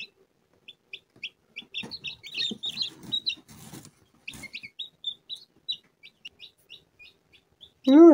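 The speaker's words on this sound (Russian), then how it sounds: "Вот уже пошли наши цыплятки." Newly hatched chicks on day 22 of incubation peep in a homemade cardboard-box incubator: many rapid, high, close chirps in uneven bursts with soft rustling, ending on one louder, drawn-out cry.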